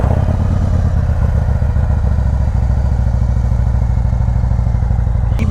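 Harley-Davidson motorcycle fitted with Santoro bag guards, ridden on a short test ride. A loud, close, steady engine rumble with a rattling, clattering texture runs without break throughout, and no one talks.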